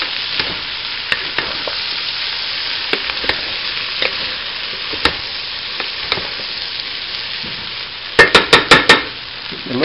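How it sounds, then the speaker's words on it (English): Chorizo breakfast skillet with eggs frying and being stirred in a pan: steady close sizzling throughout, with scattered scrapes and a quick run of five sharp utensil clacks against the skillet near the end. "I'm going to go ahead and stir this up."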